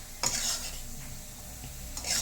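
Spice paste stirred and cooked in a pan after a splash of water, a soft scraping stir with a steady low sizzle underneath, a few brighter clinks of the spoon at the start and end, close and fairly quiet.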